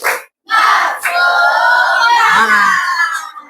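A class of children shouts a loud group chant in unison, cut through with claps, their voices filling a classroom after a brief pause at the start.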